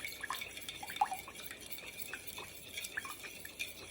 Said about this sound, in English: then you mix it with the cornstarch